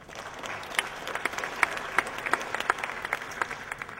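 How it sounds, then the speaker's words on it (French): Steady audience applause at a finance conference greets an AXA IM executive, a continuous wash of clapping with a few sharper individual claps standing out, moderately loud and without speech. "Je vous demande d'applaudir M."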